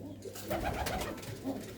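Pigeons kept indoors coo softly and repeatedly, close by, in a low, rolling murmur that continues throughout the short stretch.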